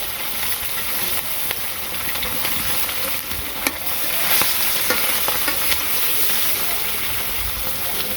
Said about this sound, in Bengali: এখন এই যে মাছটা ছেড়ে দিব